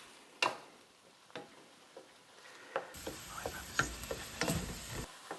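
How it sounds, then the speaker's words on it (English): Tomato paste sizzles with peppers, onions and celery in a pan for homemade sloppy joes, a few light stirring scrapes first, then a steady close frying hiss with scattered clicks. "The tomato paste is going to cook, which is going to be more flavor."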